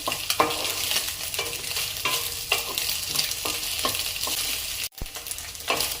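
Egg fried rice stir-fried on high flame sizzles loudly and continuously up close, with repeated rhythmic spatula scrapes and tosses and one brief cut-out near the end, no voices.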